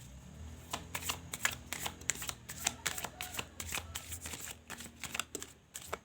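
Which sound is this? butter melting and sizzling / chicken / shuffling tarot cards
shuffling tarot cards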